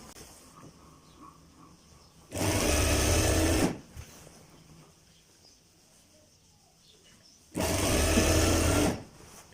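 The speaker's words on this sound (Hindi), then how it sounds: "आपने अपनी ये सिलाई जो है ये आपने लगा के एंड तक ले जानी है" Two separate runs of a sewing machine stitching a kurta seam, each a loud, steady whir lasting about a second, with quiet room sound between them.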